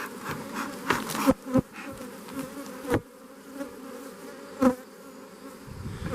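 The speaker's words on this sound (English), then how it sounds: "These bees are on this smoker" Bees buzzing close by around a smoker in a steady drone, with louder passes as individual insects fly near, alone without talk.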